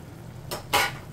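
A utensil stirs pork blood stew with ginger in a pot, making two short scraping swishes close by, the second louder and longer, over a quiet background.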